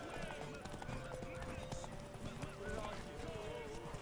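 Horse hooves clip-clop at a steady, quiet pace in The Witcher 3 video game, with game sounds and a person talking over them.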